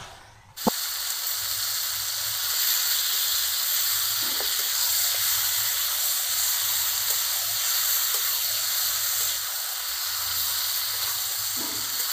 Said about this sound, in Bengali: এবারে আমি আগে থেকে ম্যারিনেট করা এই খাসির মাংস দিয়ে দেব।